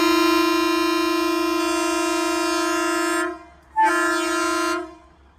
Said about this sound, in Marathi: अप्रतिम असा हॉर्न आहे आणि टॉय ट्रेन निघाली